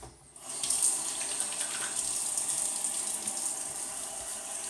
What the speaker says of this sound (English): Let's get some water on the face.